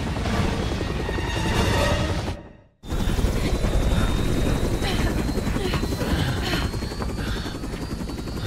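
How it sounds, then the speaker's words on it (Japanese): A helicopter in the video game Resident Evil 6 drones with loud, steady rotor chop throughout, broken by a brief silent gap, while a voice talks over it. "ヘリが落ちるんでしょ、"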